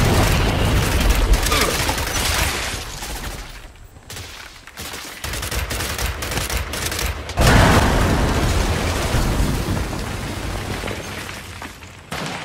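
Frag grenade blast and rapid gunfire in a shooter video game, dense continuous bursts of shots with booming hits throughout, loudest near the end, with brief voices mixed in.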